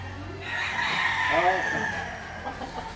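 White kelso gamecock crossed with a quarter sweater, crowing and clucking over a steady background hum, with a speaking voice mixed in.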